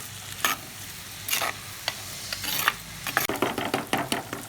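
Chopped onions and green chillies frying in oil on low heat for a farm chicken curry, a soft steady sizzle broken by repeated spatula scrapes and stirring knocks, close by.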